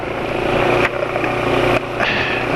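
A motorcycle engine running on Master Silentium synthetic oil idles steadily up close, a continuous dense mechanical hum with faint ticking and no talk.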